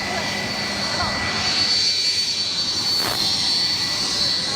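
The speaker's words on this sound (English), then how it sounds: "Let's listen into the plane." Aircraft engines run steadily in a loud, continuous drone with a high whine, heard from close by around a campaign plane, with no pauses across the stretch.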